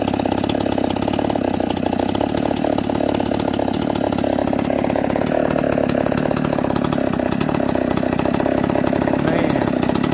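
A Stihl 024 chainsaw with a reamed-out, enlarged muffler runs steadily for the whole stretch. Its raspy, grumbly engine note is loud and close, with slight wavering in pitch and no voices over it.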